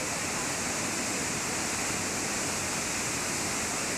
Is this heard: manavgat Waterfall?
yes